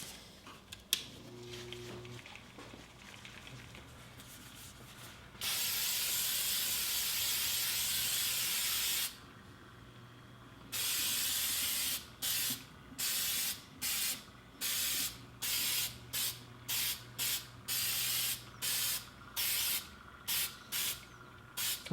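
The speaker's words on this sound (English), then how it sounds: "we'll just give it a nice coating of this Krylon. It's just basically an acrylic spray is all it is." Krylon acrylic spray coating a scroll-sawn wooden name ornament, hissing first in one long steady burst, then in a rapid series of short even bursts with brief gaps between them.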